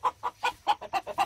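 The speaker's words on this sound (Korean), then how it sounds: "닭들이 좋습니다" Chickens on a rural farm give a quick run of about eight close, rhythmic clucks in a short burst, with no talking.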